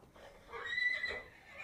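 A single horse neighs in one short, moderately loud whinny that rises and fades, used as a sound effect in a Tamil audiobook.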